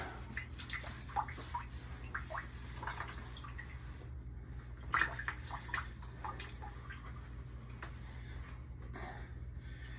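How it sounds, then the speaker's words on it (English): Water leaks from a DAB E.Sybox Mini 3 pump into a pail below, a steady close trickle and patter of drips over a constant low hum, with no speech. "I'm surprised there's that much water actually coming out of it, but I've got a pail underneath there"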